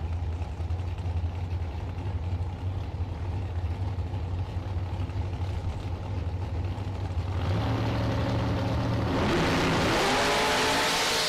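At a bracket drag race, a Roadster and a Beretta sit idling with a low steady rumble, then the engines rev up sharply and roar louder near the end as they launch.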